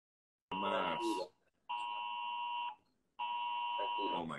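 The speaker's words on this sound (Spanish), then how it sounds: "Entró una alarma de estas que normalmente." An electronic alarm sounds in three long, loud steady tones separated by short gaps, piercing and close, with brief talk overlapping the first burst.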